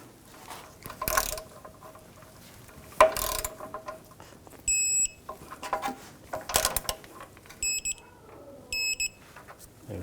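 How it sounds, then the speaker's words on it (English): A torque wrench ratchets and clicks while tightening steering rack bolts on a 2015-2018 GMC Sierra 1500 5.3L V8, in short bursts of ratcheting with sharp beeping click signals at the set torque. "Now we're going to torque the smaller bolts to 74 foot-pounds."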